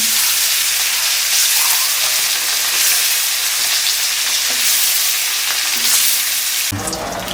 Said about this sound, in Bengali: দেখুন আমার ডিমগুলো লালচে লালচে করে আমি ভেজে নিয়েছি